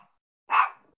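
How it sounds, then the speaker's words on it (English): One short, sharp dog bark sounds once after a silence, somewhat muffled as if from another room. "if you guys are hearing barking"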